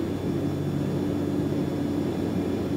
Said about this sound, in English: Fun aircraft to fly if you like the Quest Kodiak.